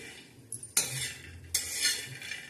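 Peanuts and sesame seeds roast in a pan over a low flame. Two loud scraping strokes of a spatula stir them, each followed by a rattling swish, close by against a quiet background.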